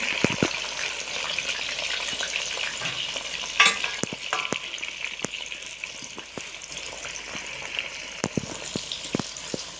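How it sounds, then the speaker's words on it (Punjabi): Cut eggplant pieces sizzling in hot oil in a pan, a steady close frying hiss broken by sharp pops and crackles, with no voices. "ਹੁਣ ਆਪਣਾ ਤੇਲ ਗਰਮ ਹੋ ਗਿਆ ਹੁਣ ਆਪਾਂ ਇਹਨਾਂ ਨੂੰ ਇਹਦੇ ਵਿੱਚ ਪਾ ਦਿੰਦੇ ਆ ਬੈਂਗਣਾ ਨੂੰ"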